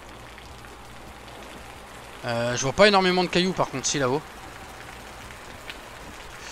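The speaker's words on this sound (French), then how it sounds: "Ok, il commence à pleuvoir." Steady rain falls in the survival video game Osiris: New Dawn, a soft continuous hiss that runs the whole way through while someone talks over it midway.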